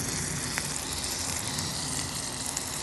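Onions and peppers sizzle in a hot pan alongside cooked meat for birria tacos, a constant, soft crackling hiss with faint pops, steady throughout and free of voices.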